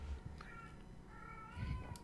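A cat meows a few times over the background of a tabletop Tukayyid game session, the cries fairly clear but not loud.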